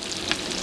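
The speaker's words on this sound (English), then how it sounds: "We're frying up pickerel here, people." A brief, steady sizzle of pickerel fillets coated in egg and breadcrumbs frying in hot oil, with a small crackle partway through.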